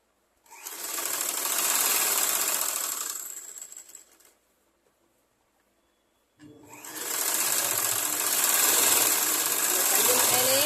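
Sewing machine stitching a blouse, running in two long bursts of fast, steady whirring separated by a brief pause, close and loud with no talk.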